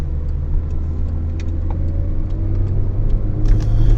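A car foley effect with a steady, low engine rumble and a constant drone, plus faint clicks and a slight rise in intensity near the end.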